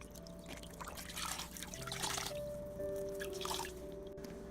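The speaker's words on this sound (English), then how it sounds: "I'm going to dip it in here, and I'm going to go ahead and wash my feet off" A wet hand towel is dipped and wrung in a salt foot soak basin while feet are washed, giving soft trickling, dripping and splashing water sounds close by, continuous over a quiet tonal background hum.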